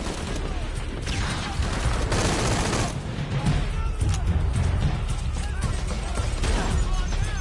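Gunfire from a firefight in the video game Shadow of the Tomb Raider, including a close shotgun blast, with dense, continuous bursts of shots and crashing impacts throughout.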